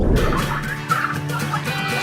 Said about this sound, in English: We get the turkeys when they're 1 day old, and we raise them to full maturity somewhere between 20 and 24 weeks.